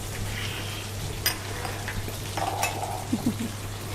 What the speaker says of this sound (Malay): kita goreng dia lagi hingga dia garing betul